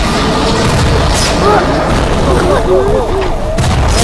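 Animated Skibidi Toilet battle with booming gunshots and explosive blasts running through the whole clip, loud and dense, while excited voices talk over it.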